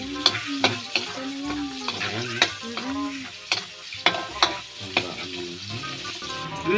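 Meat sautéing in a pan up close, loud crackling sizzle overlaid with a rhythmic series of sharp scraping and clanking spatula strokes against the metal.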